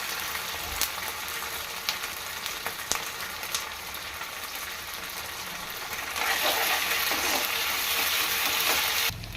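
Garlic, ginger-garlic paste, curry leaves and spices frying in a pan for a spinach and potato curry, a continuous close sizzle with scattered pops, swelling louder and hissier in the last few seconds, no talk.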